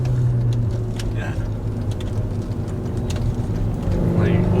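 A 2016 Kia Forte running on E85 fuel and fitted with a blow-off valve. The engine drones loudly and steadily up close, with short hissing bursts breaking in on top.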